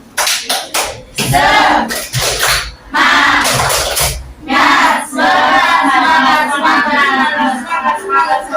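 A school class claps a rhythmic spirit chant, bursts of hand claps alternating with children's voices chanting together, loud and close, with short pauses between rounds.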